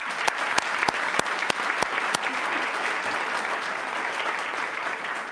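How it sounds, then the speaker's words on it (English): Conference audience at an automation event applauding, a steady wash of clapping with several sharp, distinct claps standing out near the start. "let's give him a warm applause"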